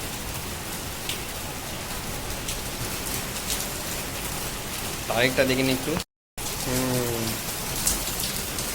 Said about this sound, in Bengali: আবহাওয়া তো এখন ভালোই জোরে হচ্ছে বৃষ্টি।